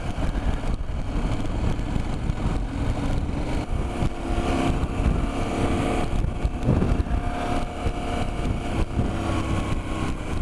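A KTM 790 Adventure motorcycle rides steadily on the street, its engine droning continuously under heavy wind buffeting on the microphone, loud and close throughout with no clear changes in pace.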